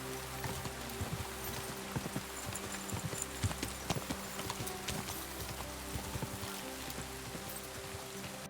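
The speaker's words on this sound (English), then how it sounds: "Even the canter is really fast." Hooves of a horse cantering in the video game Kingdom Come: Deliverance II, a quick steady run of rhythmic clip-clop beats over soft outdoor ambience, moderately close and fairly quiet.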